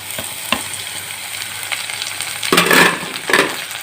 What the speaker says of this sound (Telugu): ఇది కూడా ఒక నిమిషం ఫ్రై అవనిద్దాం